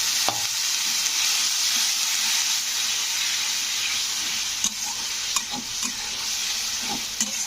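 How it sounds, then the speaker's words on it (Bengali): Chili powder is stirred into hot oil for a radish curry, producing a constant hissing sizzle with occasional light clicks of a spoon against the pan toward the end, close-up and without speech. "এটাকে একটু তেলের মধ্যে একটু নাড়াচাড়া করে দেব"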